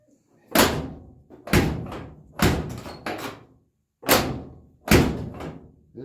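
A door on a Chevy square body truck is slammed shut five times, each a heavy, loud, close thunk with a short ringing decay. The slams come about a second apart and are separated by short pauses.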